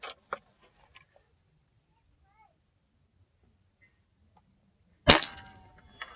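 A single Umarex Gauntlet air rifle shot: one sharp, loud crack that fades quickly, following a near-silent pause broken only by a few faint clicks and ticks.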